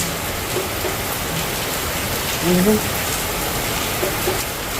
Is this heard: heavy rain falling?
yes